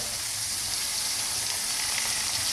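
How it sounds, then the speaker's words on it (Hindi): Chopped tomatoes go into a pan of lightly browned onions for a home-style bhindi and onion sabzi, giving a steady, close, loud frying sizzle that hisses continuously with no talk over it. "अब हम इसमें डालेंगे खूबसूरत से कटे हुए टमाटर।"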